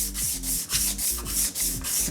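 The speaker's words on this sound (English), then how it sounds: "And we're sanding." Sandpaper at 320 grit rubbing along the grain of a Harley Benton CST-24 guitar kit body, a steady rhythmic back-and-forth scrubbing of about eight close, loud strokes with no talk.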